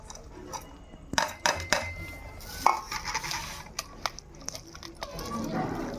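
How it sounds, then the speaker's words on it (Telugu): Onion and green chili bajji batter being kneaded and mixed by hand, giving close, irregular wet squelches and soft slaps with occasional clinks from a bowl, over a low background hum. "మన సల్ల బజ్జీలు గుల్లగా రావాలంటే ఇలా బాగా పిసుక్కోవాలండి."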